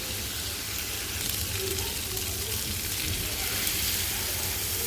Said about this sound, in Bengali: এখন মাছগুলো দিয়ে মশলার সাথে ভালো করে কষাবো